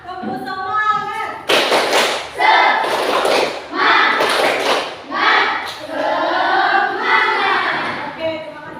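A classroom of standing students led by their teacher in the 'tepuk semangat' spirit clap, with bursts of rhythmic clapping and thumps mixed with chanting voices over several seconds.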